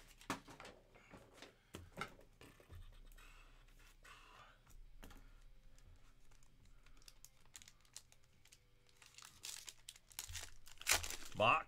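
Packs from a case of 2023 Topps Five Star baseball trading cards being torn open and crinkled, sharp intermittent ripping and crackling bursts close by, with people talking throughout.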